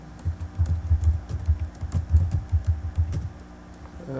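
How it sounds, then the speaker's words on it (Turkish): Steady, close typing on a computer keyboard while entering WordPress categories, with a rhythmic run of key clicks and thumps ending in a press of the Enter key, and no talking. "Sadece enter'a basıyorum yazıp"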